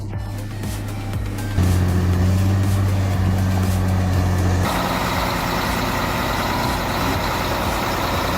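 A Scania truck hauling a 45-ton oversize log load through a narrow bend, its heavy engine drone steady and loud throughout, deepening into a stronger roar partway as the rig works under strain.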